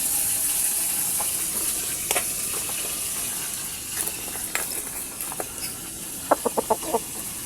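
Hens with chicks in a dim coop, soft continuous peeping under scattered clucks, ending in a quick run of four or five sharp close clucks.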